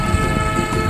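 A modified wooden toy steam locomotive pulling many wagons runs around its track, giving a dense, continuous rattling rumble with steady rhythmic clicks, close and fairly loud.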